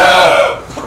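A Dorking rooster crows once, loud and close, a sustained harmonic call that fades out within a second.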